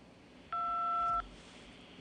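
A single steady telephone keypad tone from pressing the number 2, held for under a second against a quiet line hiss, loud and clean with no talk over it.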